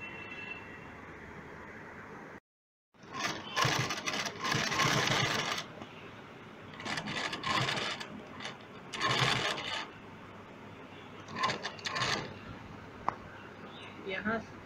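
A sewing machine stitches a shoulder bag with a zipper folded under the needle. It runs in several loud bursts broken by short pauses, with a voice talking between and over the runs.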